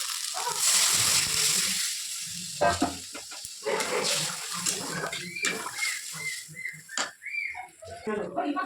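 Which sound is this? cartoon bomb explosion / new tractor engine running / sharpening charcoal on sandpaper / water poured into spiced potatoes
water poured into spiced potatoes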